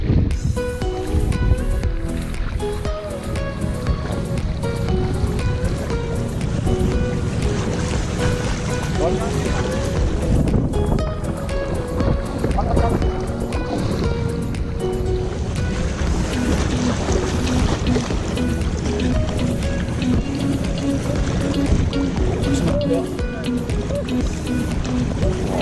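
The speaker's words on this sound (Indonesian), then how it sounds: "Naik perahu." A boat rides on the water at a fishing spot in Semarang, its motor and the water making a continuous rumbling wash that stays fairly steady throughout, with voices mixed into the noise.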